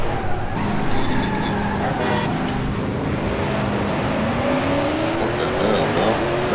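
In Forza Horizon 5, a Corvette Stingray fitted with ZR1 parts at a drag strip tunnel drones loudly and continuously, its engine pitch slowly rising as it builds speed.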